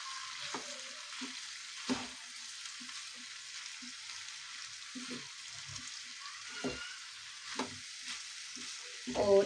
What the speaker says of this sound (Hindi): 1 मिनट के लिए इसे मैं गैस पे ही थोड़ा सा भून लूंगी।